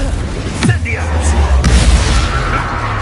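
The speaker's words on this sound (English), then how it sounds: "It's an explosion!" An explosion in the Hogwarts Legacy video game lands as a sharp burst, with a deep rumble beneath sustained battle noise and game voices.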